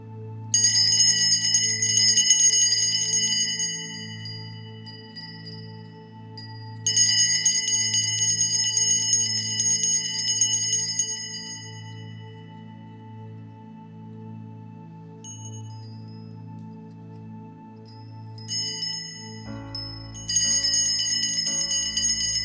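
A bell rings out at Mass during the benediction, loud bursts of bright repeated strokes in three separate spells separated by pauses, over a low steady hum of organ or background tone.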